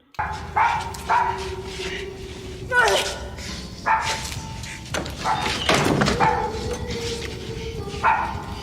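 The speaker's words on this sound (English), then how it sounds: "Now, shut that dog up." A dog barks repeatedly in a scene from the 1991 film The Silence of the Lambs, sharp barks recurring over several seconds amid thuds and people talking.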